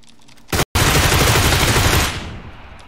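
Loud, dense gunfire from a shooting video game erupts after a brief lead-in, with a momentary gap, then rattles on continuously for over a second before trailing off; no one speaks.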